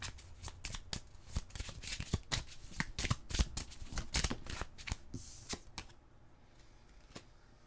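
Tarot cards shuffled by hand before drawing an advice card, a quiet, close run of rapid riffling snaps and flutters that trail off into near silence at the end.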